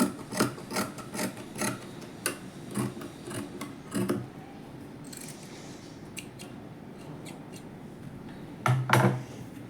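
Scissors snip and rasp through blouse fabric in a run of quiet, close cuts, with soft rustling of cloth between strokes and no talking.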